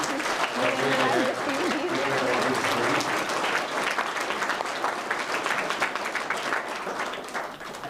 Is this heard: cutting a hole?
no